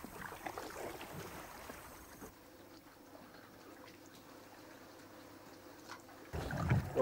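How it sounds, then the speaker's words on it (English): A wooden canoe built on a Palauan war canoe design moves through water among rock islands, with soft, steady splashing and washing of paddle strokes, faint and continuous, ending in a louder surge of water. "right now we're paddling through the middle of the rock islands"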